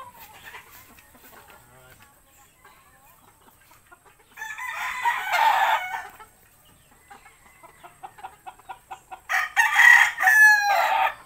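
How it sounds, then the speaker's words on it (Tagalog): Young gamefowl stags on a breeding farm crow and cluck in bursts, one crow near the start, a loud stretch midway and a strong crow near the end, with quiet gaps between, no talk. "Napakagaganda na po ng ating mga manok."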